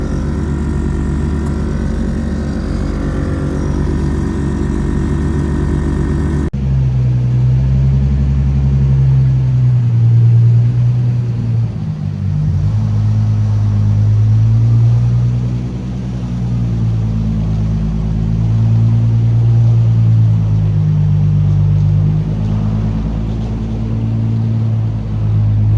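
A Toyota Supra SEMA build on lifted air suspension rolls out of a showroom, its engine idling with a low steady rumble that swells and eases slightly, following a brief unrelated sound at the start; nobody speaks.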